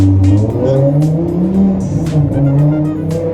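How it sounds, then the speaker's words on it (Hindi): A car engine revs and accelerates close by, its rising and falling whine sweeping up and down in pitch over a few seconds, loud and with no talk over it. "क्या गाड़ी थी यार।"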